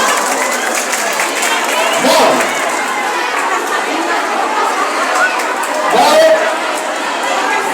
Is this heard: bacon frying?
no